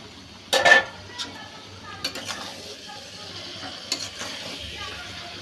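Tomato and olive pickle gets folded with sugar in a pan, with a loud spoon scrape and clink at the start, then softer intermittent stirring knocks over a low sizzle.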